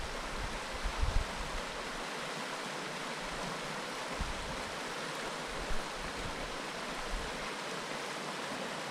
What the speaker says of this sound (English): Well, it is a nice little river.